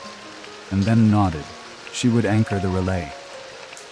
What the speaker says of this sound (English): Light rain began to fall.